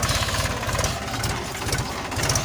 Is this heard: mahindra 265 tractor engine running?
yes